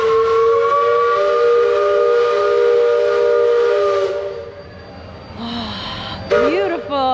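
The Liberty Belle riverboat at Magic Kingdom sounds its steam whistle in a long, loud, steady harmonic blast that cuts off abruptly, followed by a few shorter whistle toots and crowd noise.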